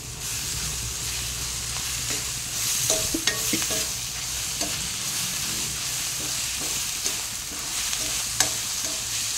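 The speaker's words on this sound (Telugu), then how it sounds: "అల్లం వెల్లిగడ్డ పేస్ట్ వేసేసుకుందాం." Ginger garlic paste sizzles and fries in a pan while being stirred, a constant loud hiss with scraping utensil knocks and clicks scattered throughout, close and without talk.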